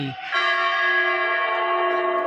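A large bell at a Ganesh temple rings out with one clear, resonant strike whose bright metallic tone hangs and slowly fades, close and fairly loud, with no voices over it.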